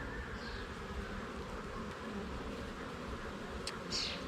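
Honeybees swarming over a pollen frame from a queenless hive, a dense, steady buzzing drone close by, with a few individual bees whining past near the end.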